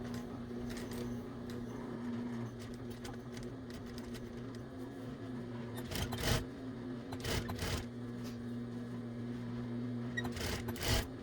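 A home sewing machine turned slowly by its hand wheel, pushing the needle through a thick folded towel seam on a chicken hooded towel: a steady low mechanical drone with faint irregular clicks and thumps, fairly close and quiet.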